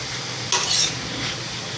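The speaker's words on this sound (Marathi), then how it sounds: "मोठ्या गॅसवर चांगली परतून घ्यायची याला।" Radish vegetable stir-fried over high flame in an iron kadhai gives a steady sizzle, with a brief louder burst of scraping and stirring near the middle of the clip.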